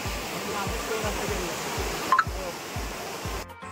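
The Chimra Devi waterfall during the monsoon season gives a steady, close rush of falling water, with dull low thumps recurring beneath the hiss.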